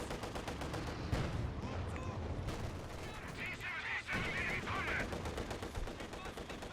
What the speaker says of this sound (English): Dodges the mortars and the rifle grenade.